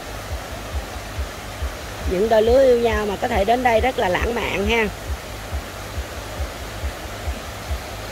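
A mountain stream flowing near Buôn Đôn makes a steady broadband rush throughout, while a person talks over it for a few seconds in the middle.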